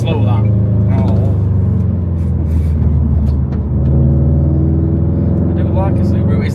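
A Subaru WRX STI with a loud exhaust drives along, its deep, steady engine rumble droning continuously and close by, with voices faintly present over it.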